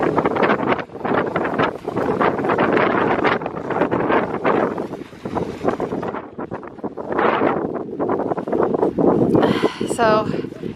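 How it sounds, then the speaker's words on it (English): Strong wind buffets the microphone in continuous low rumbling gusts on a mountain, with sled dogs nearby and people talking over it. "So it's super windy"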